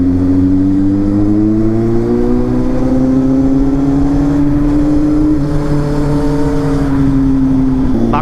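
Kawasaki Z800 inline-four motorcycle on a Sunday group ride, its engine loud and close, holding a steady throttle with slowly rising and falling pitch under constant wind rush.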